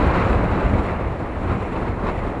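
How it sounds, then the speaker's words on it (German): Strong Patagonian wind blasts at Lago Grey in Torres del Paine, a dense, continuous roar buffeting the microphone with no pauses and no voices. "Durch seine besondere Lage weht hier fast immer der Wind und nicht selten auch in Orkanstärke."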